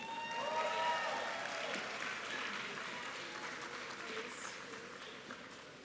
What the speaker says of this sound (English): Round of applause for all the graduates.